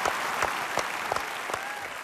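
Applause for a band playing in a Thai music contest, with dense clapping spread across the short stretch and a few sharper claps standing out.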